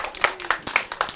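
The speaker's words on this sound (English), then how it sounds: "Round of applause for Emily." A few people clapping at a library magic workshop, sparse, sharp individual claps in a quick irregular rhythm, close and brief rather than a full crowd ovation.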